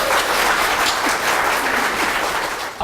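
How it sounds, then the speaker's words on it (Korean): Audience applause at an industrial company event in Korea, a full, continuous burst of many people clapping close by for nearly three seconds, fading slightly at the end. "박수 한번 주세요."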